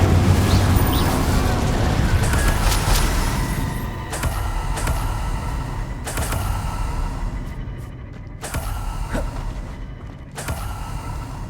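Spell blasts from Hogwarts Legacy erupt as several sharp, booming bursts spread across a dense, rumbling game soundscape, with explosions landing at irregular intervals amid creaking and crackling effects.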